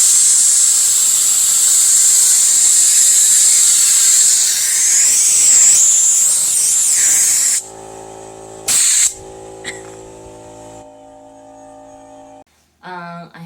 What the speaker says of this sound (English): So I had to blow this table off with a big air blower.